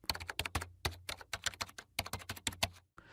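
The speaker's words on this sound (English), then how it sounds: "Enter your login ID, password, and captcha code." Login details are typed on a computer keyboard, a rapid irregular run of crisp close key clicks in quick bursts with brief pauses, then a last single tap in quiet surroundings.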